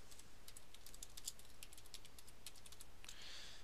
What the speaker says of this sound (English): we're going to have to type in the password again